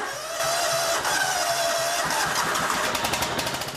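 A truck running on kudzu-derived ethanol fuel cranks and starts, then settles into a steady mid-pitched idle with rhythmic engine pulses, close and fairly loud, with no talking.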